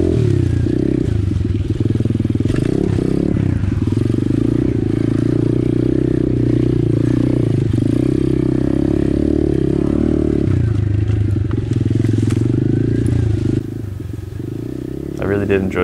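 An Apollo RFZ 125cc pit bike rides a single-track enduro trail, its small engine droning loud and steady throughout with revving swells and clattering bumps close by.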